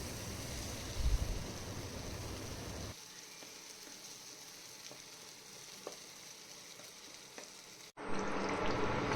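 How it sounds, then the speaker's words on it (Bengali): Curry being sautéed and stirred in a wok, a soft continuous sizzle with occasional scraping stirs, quiet and close, which cuts off abruptly and then returns louder near the end. "আর একটু নাড়াচাড়া করে নিচ্ছি, কারণ নিচের দিকে না লেগে যাচ্ছে।"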